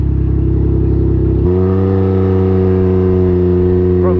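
A Can-Am Ryker three-wheel motorcycle engine idles with a loud close rumble, then its tone jumps and holds a rising, steady drone as it pulls away and accelerates.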